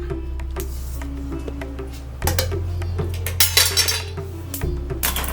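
Cooked rice being mixed into sambar in a pot: metal clinks and scrapes of a spoon against the pot, scattered and irregular, over a steady low hum, louder knocks toward the end.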